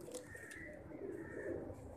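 Pigeons coo steadily and close by in a low, rolling murmur that carries on throughout without any talk.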